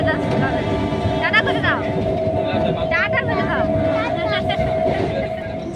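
Steady rumble of a moving train carriage, heard from near the front of the train departing Kanthi station, with a constant hum, wheel noise and brief chirps, people talking faintly beneath.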